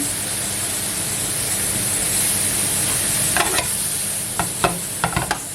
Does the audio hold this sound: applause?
no